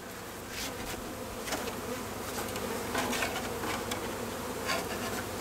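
Steady buzzing of many bees swarming close around a newly installed hive, a dense continuous drone with individual insects flaring louder as they pass near.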